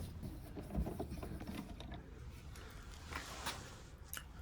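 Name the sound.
unscrewing the lid screws of an AEG Electrolux condenser dryer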